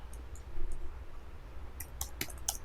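Several crisp key clicks from a computer keyboard while Python code is typed, arriving in a short uneven burst near the end after a quieter stretch, close and fairly soft.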